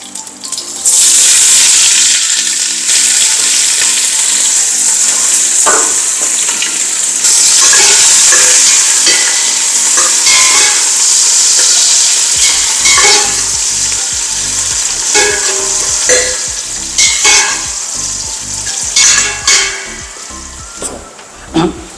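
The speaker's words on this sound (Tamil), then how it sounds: "பட்டை கிராம்பு ஏலக்காய் போட போகிறேன் இப்போ வெங்காயம் போட போகிறேன்" Onions frying in hot oil with cinnamon, cloves and cardamom, a loud steady sizzle running throughout with scattered stirring scrapes and clinks, growing busier toward the end.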